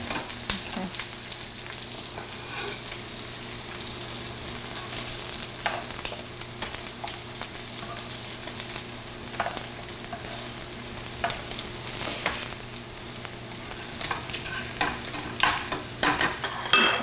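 Sliced vegetarian ham charring in a pan for a Vietnamese vegetarian udon soup, a dense continuous sizzle with crackles and occasional stirring, close and loud with no talk.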